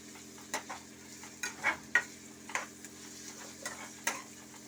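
Chicken frying in a pan is stirred with a utensil: faint, intermittent scrapes and light clinks over a low, quiet sizzle.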